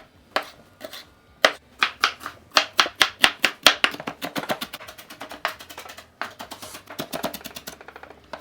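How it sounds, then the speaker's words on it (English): A knife chops red pepper finely on a cutting board, giving a run of sharp, close taps. They come in quick bursts at an uneven, steady pace with brief pauses between them. No one speaks. "You're gonna wanna chop the red pepper pretty finely"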